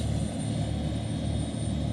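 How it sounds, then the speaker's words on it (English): A Trident tour helicopter flies near Honolulu airport in Hawaii, a loud, steady rotor and engine drone with a continuous low throb that stays constant for the whole moment, with no talk. "This is Trident helicopter."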